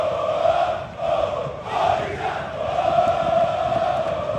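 Corinthians supporters roar and chant in the away section at São Januário stadium after a Brasileirão win, a dense crowd wash rising and falling steadily with no single voice standing out.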